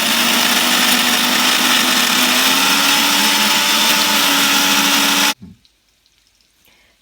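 An electric blender grinds Chettinadu masala into a fine paste for chicken curry, a loud steady whirring drone that runs unbroken for about five seconds, then cuts off abruptly into near silence.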